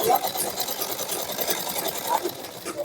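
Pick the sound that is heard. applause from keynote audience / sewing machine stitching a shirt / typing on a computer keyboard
sewing machine stitching a shirt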